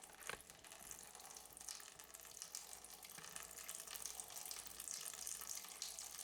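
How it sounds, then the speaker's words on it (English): Water from a Hydroblu Versa Flow filter pours steadily into a bucket, a continuous faint hissing splash with no voices over it. "you're going to be able to hear the water flow there"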